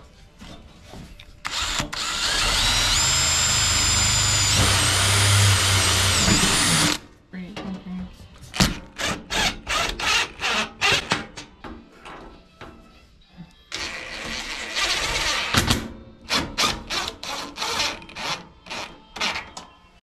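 A power drill drives self-drilling black oxide screws into a wood stove's stovepipe joints in a shed, a long loud whir followed by a rapid series of short bursts, close up.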